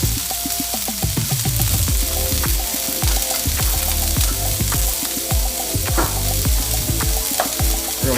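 A pound of shrimp and about a tablespoon and a half of minced garlic fry in a pan for a black pepper shrimp stir fry. Loud, steady sizzling and crackling continues throughout, close up, with stirring clatter and no talking.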